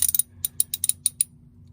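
A socket wrench ratchets on a bolt holding the gas tank of a Ford Ranger, producing a quick run of about ten sharp, close clicks that trail off into silence.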